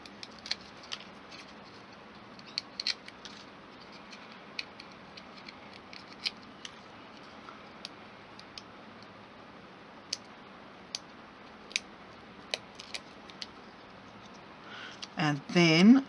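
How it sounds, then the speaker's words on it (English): Backing peeled off small adhesive foam dimensionals for a handmade card, giving sparse scattered ticks and crisp clicks over a quiet room hiss, with a brief rustle at the end. "All I have to do now is peel off the dimensionals."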